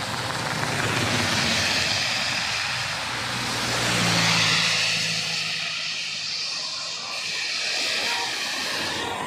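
Vehicles rush past at speed on a road near Savli village, where a fallen banyan tree partly blocks the roadway, giving broad swelling whooshes that rise and fade with no one talking.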